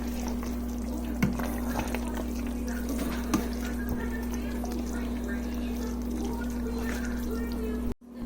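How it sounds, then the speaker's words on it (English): Spaghetti in tomato sauce with green peppers is stirred in a Ninja Foodi: soft, wet sloshing and faint scraping sit over a steady appliance hum, with a few bumps and a sharp cutoff near the end. "But now we're just going to stir it"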